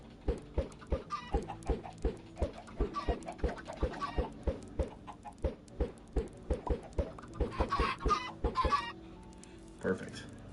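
Chickens clucking in the video game Minecraft, a steady run of short repeated clucks close by, rising into a busier flurry near the end with no talk over it.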